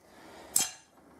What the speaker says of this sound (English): It's always a bit hammer, chisel, bang, crunch, as you saw, chiseling it off there